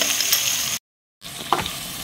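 Food fries in butter for a cucumber soup, giving a continuous close hissing sizzle that cuts out briefly and then resumes, with no voices.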